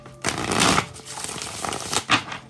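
A deck of cards is riffled and shuffled in a couple of quick bursts, close and fairly loud, with no talking.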